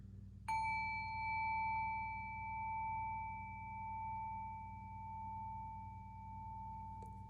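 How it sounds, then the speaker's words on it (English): A single clear, sustained tone strikes once and rings on steadily for several seconds, faintly echoing over a low background hum. "That was a very clear tone, and it's still going on, and it was an echoing."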